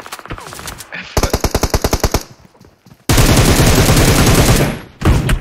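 Rapid gunfire in an online shooter game: bursts of evenly spaced shots, then a long dense roar of continuous fire and a final short burst, loud and close.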